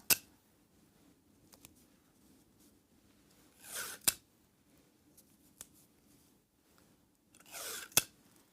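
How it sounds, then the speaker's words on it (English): Tape torn from a roll and pressed onto a small mini quilt: two short ripping bursts a few seconds apart, each ending in a sharp snap, close and quiet, with light handling clicks between them. "Lightly put that tape on."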